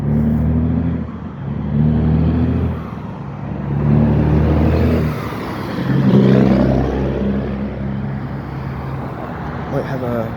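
A CSX freight train led by a Norfolk Southern GP switcher rumbles past on the Delair line, a heavy low engine drone swelling and fading with a rising pass, while people talk nearby.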